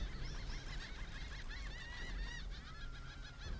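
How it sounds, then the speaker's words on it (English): Seagulls call in the game Divinity: Original Sin II, a run of repeated squawking cries over a quiet ambient game background. "The seagulls actually sound like very realistic."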